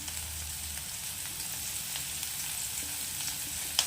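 Crab frying in a pan with ginger garlic paste, a steady close sizzle with faint stirring clicks and a sharper tap near the end, no talking.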